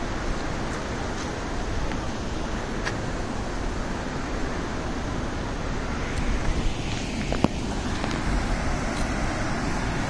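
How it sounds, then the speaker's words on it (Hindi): Water rushes at Paricha Dam as a steady, loud broadband roar that stays even throughout, close by and unbroken, with no voices. "यहाँ पे पानी कितनी तेज आवाज आ रही है।"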